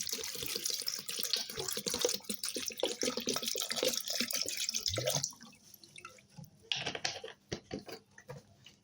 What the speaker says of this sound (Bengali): দিয়ে এর মধ্যে আমি পরিমাপ মতো পানি দিয়ে দেব